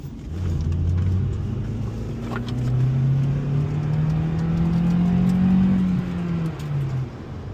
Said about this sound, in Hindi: और हाई रविंग इंजन है, मतलब इसको आप लेके जा सकते हो, इसको रेड लाइन कर सकते हो